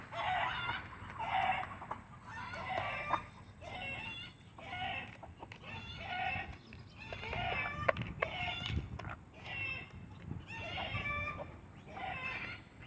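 Backyard chickens cluck in repeated short bursts at moderate distance, a steady rhythmic chatter of several birds with no talking over it.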